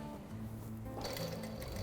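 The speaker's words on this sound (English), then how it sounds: "Just sewing all the way around." A sewing machine runs steadily, stitching around the edge of a frilled scatter cushion, with a continuous mechanical whir that grows slightly busier partway through.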